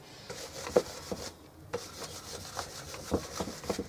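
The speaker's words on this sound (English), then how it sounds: "I'm just brushing off any excess and getting into the joints as well" A brush sweeps excess wax off a pallet wood box and into its joints, making soft, close scratchy strokes in an uneven rhythm with one brief pause.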